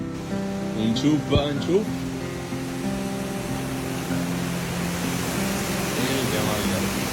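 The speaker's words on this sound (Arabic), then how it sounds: "وقفنا هنا عشان سمعنا صوت شلال" A waterfall roars steadily in the northern Italian countryside, a broad continuous rush that fills the whole clip while people talk over it near the start.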